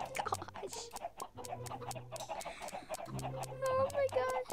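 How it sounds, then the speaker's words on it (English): Chicken clucking in a Minecraft SMP game, repeated short calls in a busy stretch alongside game sound effects and music, with a player's voice talking over it. "Stupid chicken."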